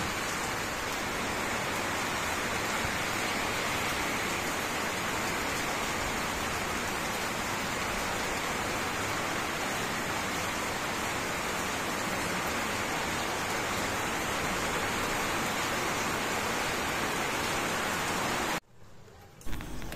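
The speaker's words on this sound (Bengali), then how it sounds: "কি ঝড় বৃষ্টি হচ্ছে" Heavy rain from an evening storm pours down as a dense, steady hiss that stays loud and unbroken until it cuts off abruptly near the end.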